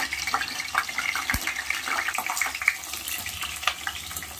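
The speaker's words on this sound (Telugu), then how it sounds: "కాగిన నూనెలో ఇలా వంకాయలు పోసి కూర్చుందో లేదో చూసి ఇలా వేగించుకోవాలి." Eggplant pieces fry in hot oil, giving a steady close sizzle broken by scraping stirs and one dull knock of a utensil against the pan; no one talks.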